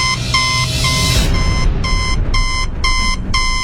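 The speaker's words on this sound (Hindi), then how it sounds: "उसके अंदर एक लाल बत्ती जल रही थी और वो जोर जोर से बीप कर रही थी।" A fingerprint machine beeps loudly, a run of sharp, evenly spaced electronic tones over a dense background hum, with no talk.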